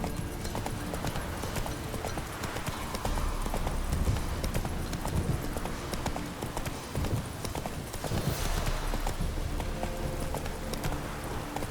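Horse galloping in The Witcher 3, rapid rhythmic hoofbeats close up over game ambience and music, with a brief whinny and someone talking in places.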